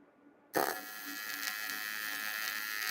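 An electric welding arc on a cast aluminum Yamaha four-wheeler swingarm strikes abruptly and holds a steady, close buzzing hiss.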